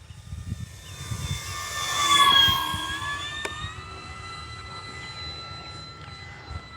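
An E-flite P-51D Mustang RC model plane, 1.2 m, comes in to land with full flaps in gusty wind, its electric motor whining steadily and swelling louder as it passes close overhead, then easing off over wind noise.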